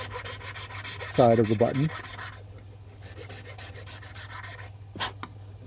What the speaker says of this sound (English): put your file on edge so that the safe edge is touching the bite zone and that you're filing the back